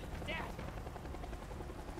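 Helicopters fly in the survival game Sons of the Forest, giving a steady rotor thrum and rumble that fills the whole moment, with voices mixed in underneath.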